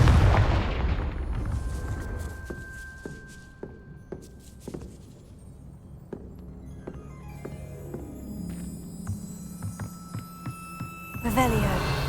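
Confringo fire spell blasts in the video game Hogwarts Legacy, a series of sharp booming impacts and crackles over a low game soundscape with musical tones, ending in a louder burst.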